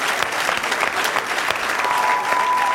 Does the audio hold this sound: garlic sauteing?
no